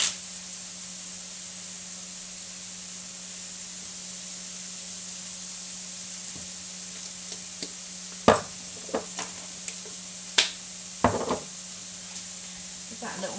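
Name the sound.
stirring chilies and vegetables frying in pan for frittata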